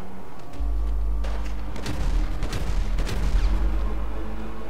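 Sustained gunfire and booming blasts from a GTA 5 shootout, dense and continuous over a heavy low rumble, with sharp volleys clustering near the middle and end.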